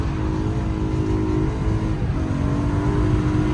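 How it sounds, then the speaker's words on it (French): A BMW M3 E90 with its V8 at full throttle on a track, a loud, dense, continuous engine roar held steady and close throughout, with no voices. "V8, à fond les gaz"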